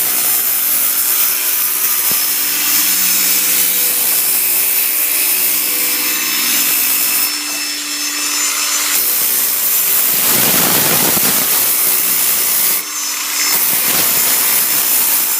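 A sanding pad with 120 grit runs continuously along the edge of a quartz undermount sink cutout, chamfering it with a loud, steady abrasive whir. The pitch dips briefly midway, and there is no talk.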